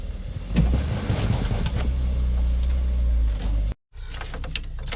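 A Mitsubishi Outlander PHEV straining in snow, with its motor droning loud and steady and its tyres spinning for several seconds, then a brief cut to silence before the churning resumes.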